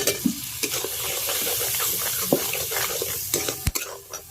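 Spice masala with turmeric, salt and tomatoes sautéing in a pan over a stove fire, a steady close sizzle broken by repeated scraping stirs and a few sharp clinks of a spoon against the pan, with no talking.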